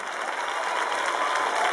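Brief, steady crowd applause at a town festival queen coronation in San Miguel, Armilla, a continuous wash of clapping for the first maid of honour.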